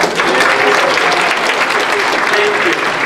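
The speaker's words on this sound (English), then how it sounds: "in this room for just a huge applause" An audience applauds steadily in a room at a land conservation event, the dense clapping continuing throughout while a faint voice seems to run underneath.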